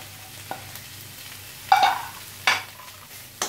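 Red chili powder and turmeric powder frying in a pan for Mughlai fish curry, a low sizzle broken by a few loud scraping stirs of a spoon, close by.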